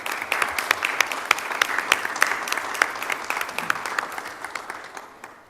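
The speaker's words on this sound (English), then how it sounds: "just please give a round of applause to all those people that made this happen" Applause from an audience at a Middletown Township, Bucks County meeting honors Public Works staff, a sustained, even patter of many hands that gradually fades toward the end.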